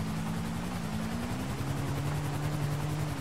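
Helicopter flying in the PS3 version of GTA 5 Online, a steady low rotor and engine drone that stays loud and continuous throughout, with no talk over it.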